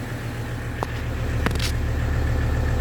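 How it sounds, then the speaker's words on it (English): A 1985 Mercedes 300TD diesel engine idles close by in a steady, even rumble, with a couple of brief clicks over the top. The engine keeps running to the end, with no cut-off. "I bet our engine is going to shut off within 2 seconds"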